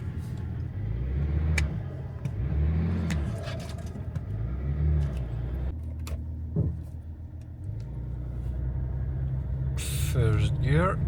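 A Range Rover L322 TD6 with a swapped 8HP automatic gearbox pulls away, its diesel engine rumbling low and steady from inside the cabin while a person talks, with a few clicks and shifts in the drone.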